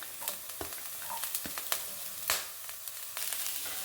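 Chopped vegetables such as peas, beans and cabbage sizzle and crackle in a hot pan for chicken vegetable soup, with scattered clinks and scrapes from stirring and no talk.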